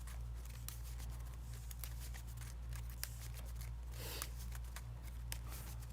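A deck of game cards shuffled during an Arkham Horror card game session, soft rapid riffling and flicking clicks spread throughout over a steady low hum, with no talking.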